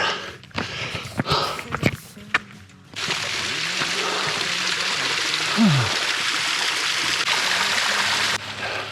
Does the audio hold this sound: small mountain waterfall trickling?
yes